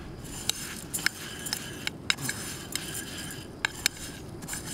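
Oil being stirred in a camping pan on an island trip: scattered light metallic scrapes and clinks of a utensil over a steady low hiss, close and fairly quiet.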